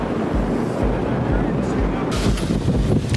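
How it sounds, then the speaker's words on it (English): Strong wind buffets the microphone on a boat ride off Seward, Alaska, a loud continuous roar with gusty low thumps, and people talk faintly underneath. "I know the wind is crazy right now."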